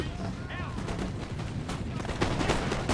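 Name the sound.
musket gunfire in battle, video game Total War Napoleon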